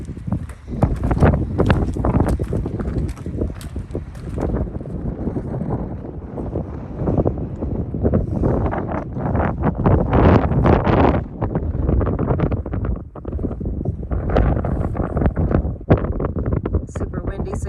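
Strong gusting wind buffets the microphone on a mountain top in the Wind River Range, roaring and loud throughout, with footsteps and brief talk partly buried underneath.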